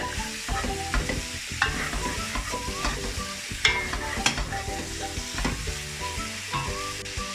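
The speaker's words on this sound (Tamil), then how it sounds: "சிக்கன் வதங்கி கொண்டிருக்குது." About 700 grams of chicken fries in oil for a homemade dum biryani, producing a dense, lively sizzle with frequent stirring clatter and spatula knocks, with background music running underneath.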